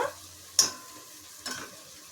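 Ginger garlic paste frying in oil, a soft sizzle with two short stirring scrapes of a spoon against the pan, close and quiet.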